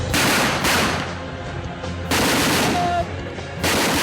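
Gunfire during Black Cat commando training, with several loud close bursts of rapid machine-gun fire separated by brief pauses, with no voices.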